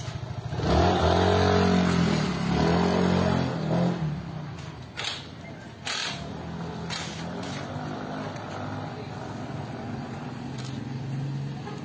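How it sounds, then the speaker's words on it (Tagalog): A 175cc motorcycle engine runs steadily during a test ride, with a few sharp clatters and revs partway through, heard over continuous background noise and voices. "Testing ni Papi yung 175 niya."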